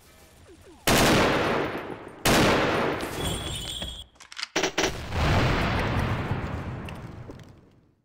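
Rapid bursts of AK rifle fire in the video game XSHOT, loud and close, with sustained automatic volleys separated by brief pauses and a few scattered shots.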